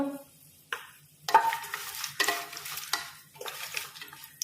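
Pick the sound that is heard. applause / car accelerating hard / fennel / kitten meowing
fennel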